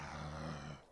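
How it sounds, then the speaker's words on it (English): A zombie-like enemy in the video game Betrayer growls in a low, rough, sustained rumble lasting under a second and fading at the end. "He sounds like a zombie."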